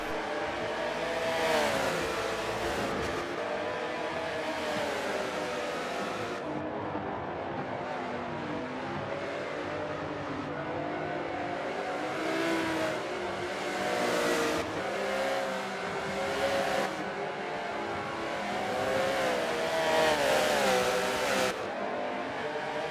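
Several race cars in a sim racing game at Indianapolis roar continuously, their engines rising and falling through revs and gear changes as they battle close together, loud and without pause.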